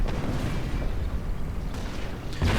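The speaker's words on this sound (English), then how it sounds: "And the Hummel once more fires." Hummel self-propelled artillery fires in a real-time strategy game, a deep rumbling boom that swells and rolls on through the clip, with a fresh blast bursting in at the end.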